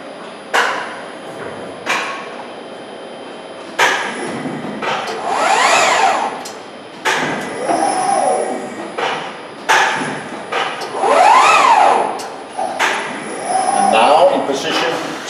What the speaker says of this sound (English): Now the folding beam moving into the position to do the first down folding.